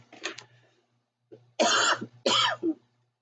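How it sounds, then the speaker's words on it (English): A short cough, then after a pause two harsher, louder coughs in quick succession, close and alone. "I just had to have a drink of water and I started coughing."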